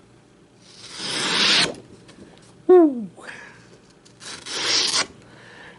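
A folding knife slicing through heavy-duty card stock gives two broad rasping, scratchy cuts about three seconds apart, fairly close and moderately loud, with a brief exclamation from a voice in between.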